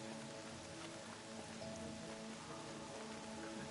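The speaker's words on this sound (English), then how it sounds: "More rain. My boots will get damp." Steady rain in the video game Horizon Zero Dawn Remastered patters continuously on a surface, with a soft, even hiss throughout and faint tonal hum underneath; no voices.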